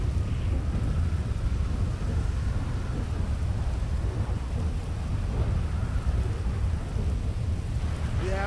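Rain in the video game GTA 5 falls as a steady broadband hiss, with a deep low rumble running under it throughout at moderate level and no voices.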